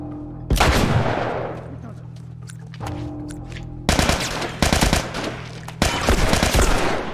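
Assault rifle gunfire in the video game The Last of Us: several loud, close bursts of rapid automatic fire with sharp onsets, separated by short pauses and trailing echoes.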